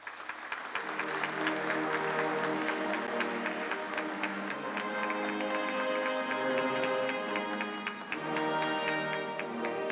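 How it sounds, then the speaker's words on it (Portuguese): An audience at a formal ceremony applauds steadily for ten seconds, with dense clapping and music playing underneath throughout. "eu os convido a mais uma salva de palmas"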